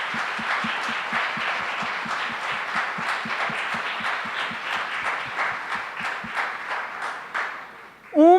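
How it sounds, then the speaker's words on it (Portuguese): A church congregation applauding for Jesus, fast rhythmic clapping in unison that carries steadily for several seconds, with a voice rising briefly at the very end. "Uma salva de palmas para Jesus."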